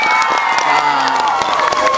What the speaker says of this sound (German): Ein großer Applaus für Jazz.